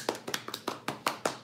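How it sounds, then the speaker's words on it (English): A small audience claps for a quiz winner, with a brief, sparse spatter of about a dozen hand claps in an uneven rhythm, quiet and close. "We'll give you a round of applause."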